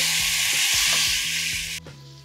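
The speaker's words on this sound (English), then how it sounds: "let me just give it that professional stir" Ginger paste frying in a pan for chicken jalfrezi crackles in a loud, dense sizzle while it is stirred, then cuts off abruptly near the end.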